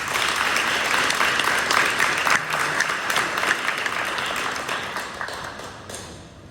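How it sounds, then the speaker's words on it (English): Audience applause at a school district board meeting, a steady wash of many hands clapping in a hall that slowly tapers off, with no voices over it. "Let's give them another round of applause."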